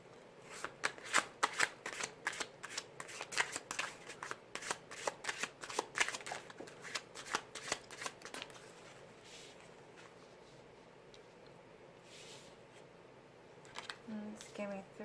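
Yin Yang Oracle cards are shuffled in a quick, steady flurry of papery riffles, close and fairly quiet, then pause before a brief final shuffle near the end.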